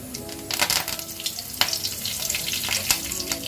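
Curry leaves and mustard seeds crackle and sizzle in hot oil in a kadai, a close, busy frying hiss broken by sharp pops and spits, with faint stirring underneath.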